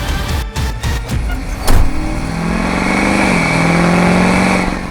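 A Duramax-swapped 1996 AM General Hummer H1 wagon drives off loudly, opening with a few clunks and rattles, then settling into a close, steady diesel drone that climbs slightly in pitch as it accelerates.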